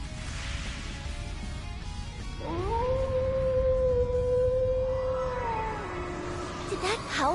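Long rising wolf howl from a video game, two sustained tonal lines gliding up and holding before dropping, loud over rumbling battle noise and low background sound.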